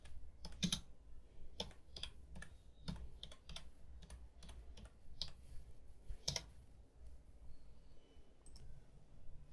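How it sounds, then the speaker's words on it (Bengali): Someone types a search on a computer keyboard: roughly twenty quiet, close keystrokes in an uneven rhythm with a few louder clicks, over a faint steady background hum and no voice. "তো আমি ওয়াইটি ব্যাকগ্রাউন্ড লিখে যদি সার্চ করি"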